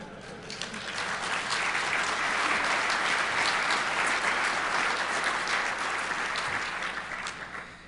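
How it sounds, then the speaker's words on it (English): A conference audience at DEFCON 19 bursts into sustained applause, a dense, steady wash of many hands clapping that swells in the first second, holds loud and even, then begins to thin near the end. "You're going to clap when you read this."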